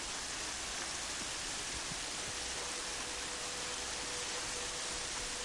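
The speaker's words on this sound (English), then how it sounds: "Now it's raining." Rainfall in Horizon Zero Dawn, a dense even hiss of pouring rain like rushing water, constant and moderately loud with no gaps.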